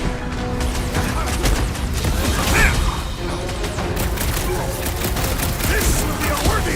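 Rapid gunfire and blasts during a Guardians of the Galaxy video game battle against Centurions, a dense continuous barrage of shots and impacts with game sounds layered underneath.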